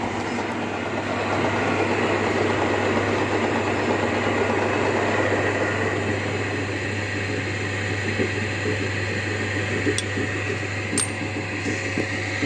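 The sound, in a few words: home workshop machine running in reverse at lower speed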